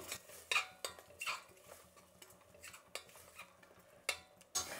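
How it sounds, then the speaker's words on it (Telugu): Masala spices frying in a pan for mutton paya soup, heard as a soft close sizzle broken by repeated sharp scrapes and clinks of a spoon stirring against the vessel, with no voices. "ఈ మసాలా ఇప్పుడే బాగా వేయించాలండి. వేయిస్తే పచ్చివాసన అనేది పోతుంది."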